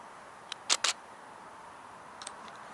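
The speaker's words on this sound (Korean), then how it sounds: "셔터를 누르겠습니다." Camera shutter fired for a light-painting photo of a car, two sharp close clicks in quick succession, then a fainter pair of ticks a moment later in a quiet room.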